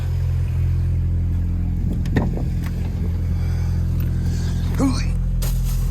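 Idling engine of a MEEP vehicle being backed up, a steady loud low rumble running throughout with a few faint clicks and a brief squeak near the end.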